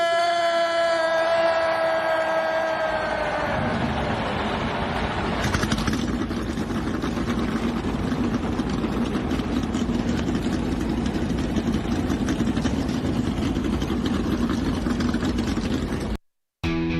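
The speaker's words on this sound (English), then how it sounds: "Drivers, start your engine!" An engine rumbles steadily at idle for the whole stretch, a dense low drone that settles in after a brief tonal passage at the start, with a moment of silence near the end.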